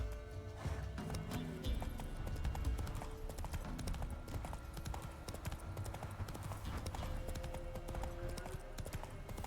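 Hooves clip-clop in a steady, brisk rhythm as a horse gallops across open ground in The Witcher 3, close and continuous throughout.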